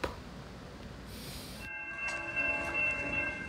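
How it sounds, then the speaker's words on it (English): A GO commuter train rumbles in the distance as it approaches Newmarket station, then a horn sounds with sustained tones over a low rolling noise. "we're at the Newmarket GO station and we have a GO train coming"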